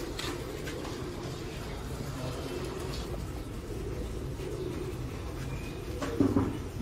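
A Sialkoti racing pigeon gives soft, low coos against a constant background rumble of distant traffic, with the cooing growing a little clearer near the end.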